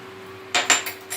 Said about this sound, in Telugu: సాల్ట్ వేసి ఇలా కలుపుకోవాలండి